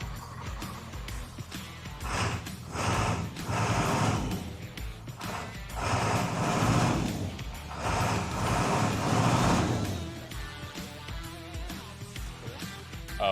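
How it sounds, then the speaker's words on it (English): A diesel engine, just bled of air in its fuel line, revs up and down in repeated surges, loud and close with a rough mechanical clatter, then settles back to idle. "I'm gonna rev it a little bit."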